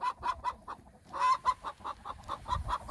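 A hen clucks in a steady series of short, rhythmic calls, like a bird about to lay an egg, with a brief pause partway through. The clucks are fairly close but soft, and no voices are heard.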